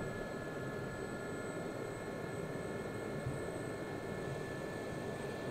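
In the DCS flight simulator, an SA342M Gazelle helicopter spools toward liftoff with a steady, dense turbine roar and a high whine, holding an even, moderate level throughout.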